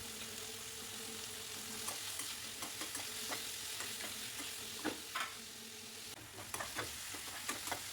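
Onions and tomatoes sauté in hot oil in a kadai with a faint, steady sizzle, broken by irregular scraping clicks of stirring.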